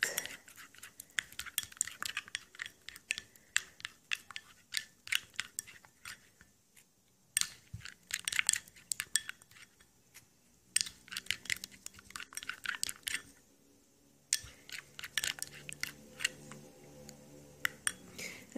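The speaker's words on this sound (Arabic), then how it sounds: "هنا غادي نضيف زيت كونتيتي اخرى ديال الزيت اكيد، وغادي نبدا كنخلط" Small utensil clinks and rapid tapping from oil being added and stirred into an under-eye remedy mixture, close and fairly quiet, coming in irregular bursts with short pauses and no talking.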